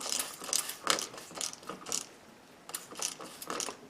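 Repeated short spritzes of water from a pump sprayer onto wood, about eight quick hissing bursts in an uneven rhythm, close and fairly soft.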